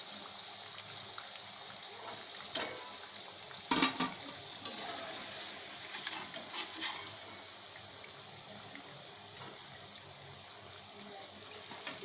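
Moong dal pakodas fry in hot oil, producing a continuous bright hiss and fizz with faint crackles, fairly close and steady, with a few brief knocks of a utensil.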